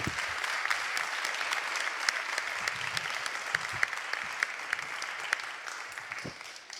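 An audience claps after a permaculture conference talk in Lyon, a sustained round of crisp applause that holds steady and then thins slightly toward the end.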